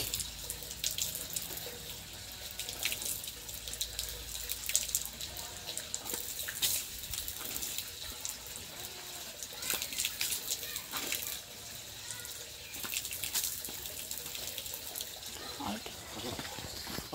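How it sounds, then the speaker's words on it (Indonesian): Water runs steadily from a tap while someone washes their face outdoors, a continuous splashing stream with irregular splatters, and people talk faintly in the background. "Cuci muka dulu"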